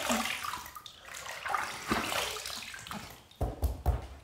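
Running water rinses a razor after a shave with bay rum soap: close splashing and trickling from a tap, with a few knocks and clatters toward the end.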